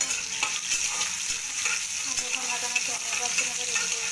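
Chopped vegetables and onion frying in a pan for a bhaji, a steady close sizzle with soft crackles and occasional stirring scrapes, no one speaking over it.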